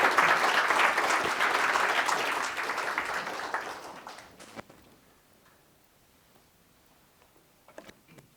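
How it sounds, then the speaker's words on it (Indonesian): Applause from the audience at a ceremony swearing in Indonesian advocates, a full round of clapping that swells early, then thins out and fades over about five seconds, leaving a few scattered claps afterward. "Boleh tepuk tangan?"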